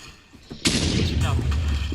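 An explosion blows up blocks in the Minecraft-style game Bombercraft, a sudden loud blast followed by sustained rumbling and crackling debris.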